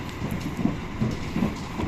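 Argo Bromo Anggrek executive train rolls along the rails with a steady, loud rumble from on board, marked by a few rhythmic thumps of wheels crossing rail joints.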